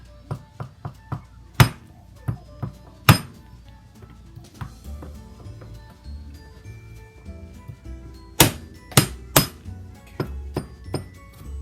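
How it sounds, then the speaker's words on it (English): Peeled garlic cloves being smashed on a cutting board, sounding as a string of sharp, close knocks and thuds, some spaced out and some in quick bursts, with no talk. "Now we smash it."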